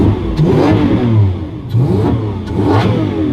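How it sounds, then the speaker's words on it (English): A Lamborghini Aventador engine revs hard three times in quick succession, each burst rising in pitch and then falling back, loud and close with no talking. "it'd be rude, I think, not to give this a couple of revs."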